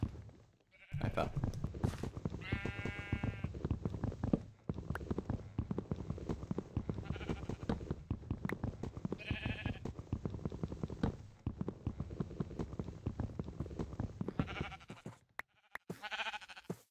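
Sheep bleating in Minecraft, several short, nasal blocky bleats rising over steady game ambience and footstep-like clatter, spaced across the scene at moderate loudness.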